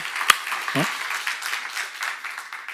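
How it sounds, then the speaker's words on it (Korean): A church congregation at a sermon seminar applauds together, a dense wash of clapping that runs steadily the whole time, with a sharp click and a brief voice sound near the start. "박수 치세요."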